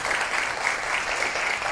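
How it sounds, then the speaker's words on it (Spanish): An audience at a panel discussion on adequate housing claps warmly to welcome a speaker, a brief steady patter of applause without talk. "La recibimos con un cálido aplauso, por favor."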